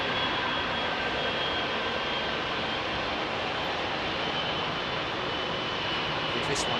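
A Boeing 777 jet at Heathrow spools up and departs, a loud, continuous broadband engine roar that holds steady throughout, near and dominant with no talk.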